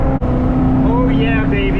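A Chevrolet Corvette's engine roars loudly from close by as it downshifts approaching a curve, the revs climbing sharply in a rising snarl after a brief dip.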